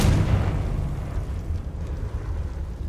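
A deep, rumbling blast from a spell in the Hogwarts Legacy video game, loud at the start and then fading into a long, rolling low roar with crackling debris.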